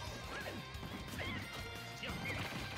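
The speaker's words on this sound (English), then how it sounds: "He just throws banana at the shield." Hit and crash effects from a Super Smash Bros match, with a thrown banana striking a shield amid repeated whacks, squeals and game effects over a steady busy background, with no voices.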